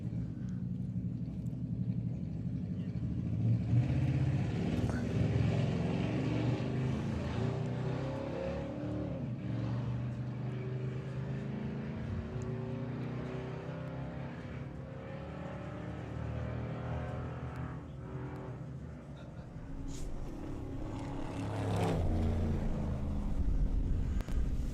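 Engine of a front-wheel-drive VW drag car on its first run down the Santa Pod strip, a sustained loud roar with shifting pitch that fades and then swells again, with a faint voice at times.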